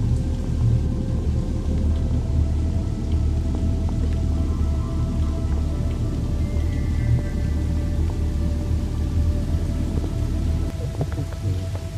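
Steady, dense rain falls over a foggy lake, a continuous close patter and hiss that holds evenly for the whole stretch with no voices.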